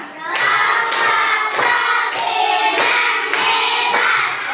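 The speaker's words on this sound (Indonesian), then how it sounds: "tepuk hebat dulu untuk Imam" A classroom of students gives a patterned 'tepuk hebat' clap for a classmate, several loud rhythmic bursts of group clapping in sequence, close and filling the room with no talk over it.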